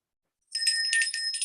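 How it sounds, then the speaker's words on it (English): A small bell rings after a moment of silence, giving a bright, sustained metallic ringing with a few rapid repeated strikes, loud and alone. "Annette, ring the bell"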